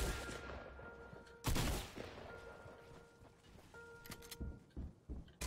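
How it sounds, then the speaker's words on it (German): Bursts of video game gunfire against bot opponents in a multiplayer round, a loud volley near the start followed by scattered quieter shots and clicks. "Der schießt!"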